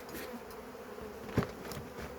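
Honeybees buzz steadily around an opened three-frame hive, a soft continuous hum with individual bees passing close now and then, one brief louder pass near the mic.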